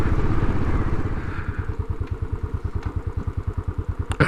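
A Royal Enfield Classic 500 single-cylinder motorcycle engine thumps close by in a steady, even pulse that settles into a regular rhythm, with some wind noise at first.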